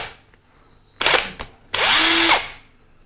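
A cheap Makita knock-off impact driver, set to its lowest speed setting, gives two loud whirring runs, a short one and then a longer one of about half a second, with a brief blip between them and no talking.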